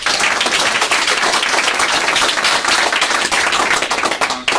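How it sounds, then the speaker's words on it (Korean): Sustained, dense applause from an audience at a 2015 Korean New Year greeting ceremony, steady and loud across the whole stretch with no voices over it. "또 큰 박수 한번 더 부탁드릴까요?"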